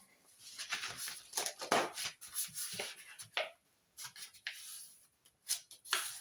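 Scissors snipping through craft material, a run of short dry cuts and rustles coming in irregular bursts with brief pauses, close and fairly quiet.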